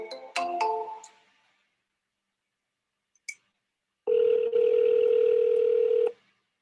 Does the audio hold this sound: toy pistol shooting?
no